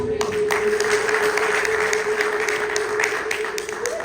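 Church congregation applauding during an Amharic sermon, a steady dense wash of clapping that runs the whole stretch, with a constant tonal hum beneath it and no clear speech over it.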